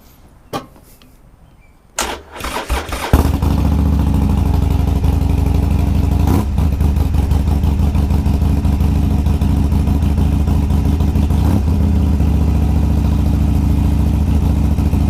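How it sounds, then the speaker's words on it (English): A motorcycle fitted with a universal cruise control starts up after a few clicks and a cranking burst, then idles steadily with a loud, close, continuous engine rumble, alone without talk. "we're gonna start the bike up and see how it sounds and how it holds"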